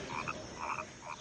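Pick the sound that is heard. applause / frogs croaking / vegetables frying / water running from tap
frogs croaking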